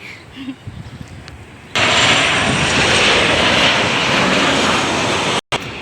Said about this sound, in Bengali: এই যে একটা প্লেন মানে চোখের পলকেই গেল গো